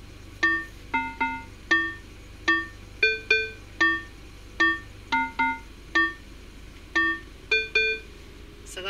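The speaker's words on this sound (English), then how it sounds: "So that's music box." Music box preset on a synthesizer playing a melody of bright, plucked tinkling notes in an uneven rhythm, about a dozen struck tones with ringing overtones, clear and close with no talk.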